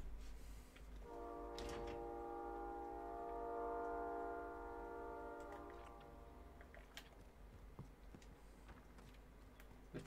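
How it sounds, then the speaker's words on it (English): A train's horn sounds in a long sustained chord in the Gulag of a Call of Duty match, rising and then fading over several seconds above low ambient rumble, with scattered ticks and clicks. "The train is coming."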